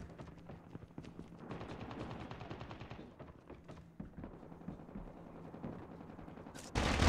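Gunfire in the Call of Duty Mobile video game comes from the left as rapid, crackling automatic bursts at moderate distance, followed by scattered single shots and a loud closing burst.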